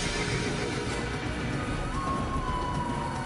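A horse whinnies in the video game Assassin's Creed over a constant background wash, with a thin sustained tone entering partway through; no one speaks.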